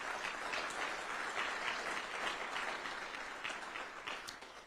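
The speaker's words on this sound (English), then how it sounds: "give me a round of applause" Town hall audience in Kearney giving a round of applause, a steady, moderately distant clatter of many hands lasting a few seconds and fading slightly at the end.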